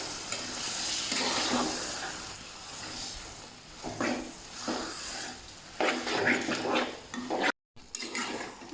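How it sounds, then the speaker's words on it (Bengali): Beef and fat frying in a pan for a beef and potato mash, a steady broad sizzle with scraping stirs of a utensil against the pan, close and continuous, with a brief dropout near the end. "মাংসগুলো দিয়ে দিচ্ছি। এখন নেড়ে দেবো ভালো করে।"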